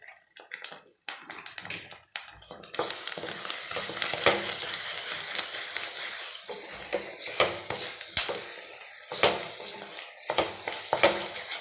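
Bread halwa being stirred in a pan after cashews and almonds go in, with a soft sizzle under repeated scraping and tapping of a spoon against the pan, close and irregular, no talking.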